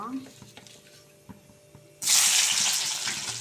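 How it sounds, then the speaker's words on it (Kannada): Garlic dropped into hot oil for a bitter gourd gojju bursts into a loud, sustained sizzle partway through, close up, after a quieter stretch of faint kitchen clatter and low background sound. "ಇವಾಗ ಬೆಳ್ಳುಳ್ಳಿ ಹುರ್ಕೋಬೇಕು"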